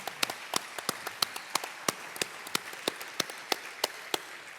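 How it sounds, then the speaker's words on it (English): Sparse, faint claps from a small audience ring out for an event team, with separate sharp hand strikes scattered across a few seconds and no talk. "So can I get the round of applause for the team and for Vlad, who put that all together"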